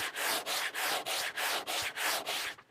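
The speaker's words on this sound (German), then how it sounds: "gehe nochmal kurz mit dem Schleifpapier drüber, damit ich da quasi da möglichst keine Brösel oder so dazwischen habe" Sandpaper rubbed by hand along the edge of a chipboard shelf board, heard close up as about nine even back-and-forth strokes with brief gaps between them, with no talking.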